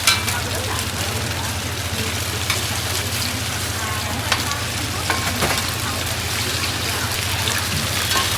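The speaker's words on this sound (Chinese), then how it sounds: "煎才对嘛，不是炸。" Food pan-frying on a hot griddle at a busy hawker stall sizzles in a dense, steady hiss, with a low mechanical hum beneath and voices talking nearby.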